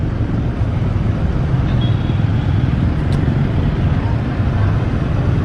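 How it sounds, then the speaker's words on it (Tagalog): Dense, steady road traffic roar with many vehicles passing close by, a constant loud rumble with wind buffeting the microphone throughout. "daming sasakyan"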